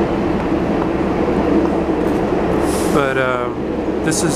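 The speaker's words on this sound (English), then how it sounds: "you can hear the subway underneath." Rumble of a subway train running beneath J Street in downtown Brooklyn, a steady low drone with a few brief tonal squeals, while someone speaks over it.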